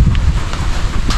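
Loud typhoon wind roars and buffets the microphone in a short, continuous rush of rumbling noise, with no voices.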